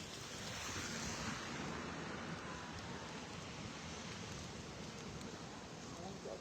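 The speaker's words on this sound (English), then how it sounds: "This is the Guadalupe River." The Guadalupe River at a flooded low-water crossing, a steady broadband rush of flowing water like surf or rain, continuous and fairly loud with no break across the clip.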